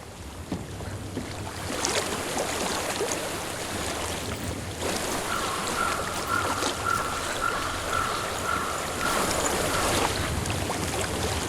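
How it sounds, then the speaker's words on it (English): Steady flowing water from a stream in the video game Hellblade: Senua's Sacrifice, a continuous wash with a faint tonal whine in the middle, no voices. "I hear water."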